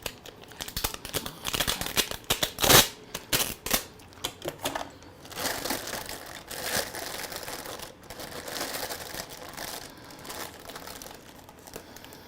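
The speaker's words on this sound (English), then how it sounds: "A little bit of my handy little tape here." Sticky tape is pulled off a roll and pressed onto a crinkly plastic food bag, with quiet rasping strips, rustles and crinkles in irregular bursts, close and soft.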